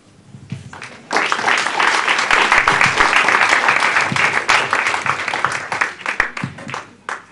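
An audience bursts into loud, sustained applause at a spiritual gathering, dense clapping swelling quickly and holding for several seconds before tapering off.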